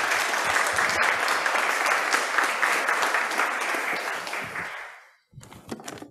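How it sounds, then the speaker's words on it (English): A church congregation applauds Verity during a sermon, sustained clapping that gradually fades away, then stops, with a few scattered sounds afterward. "Shall we give Verity a clap?"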